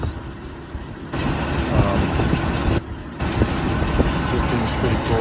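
A 1983 Jeep CJ7 engine runs steadily at close range, a continuous broadband drone carrying a loose drive belt's noise, with a brief dip in level partway through.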